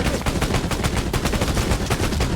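Rapid, loud automatic gunfire from a military shooter video game rattles without a break in dense bursts of sharp shots, with no voices over it.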